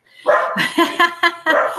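Several dogs bark loudly and close by in a rapid rhythmic series of sharp barks and yips, with about five distinct bursts in under two seconds.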